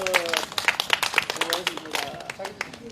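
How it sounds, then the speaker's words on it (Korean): Crowd clapping at a candlelight protest against a THAAD deployment in Gimcheon, a short burst of uneven claps with voices and shouts over it. "크게 한 박수 한번 하시죠."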